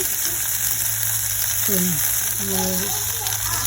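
Okra curry frying in oil in a pan, a steady broadband sizzle running throughout with a low hum underneath and a few brief tonal squeaks, close and fairly loud.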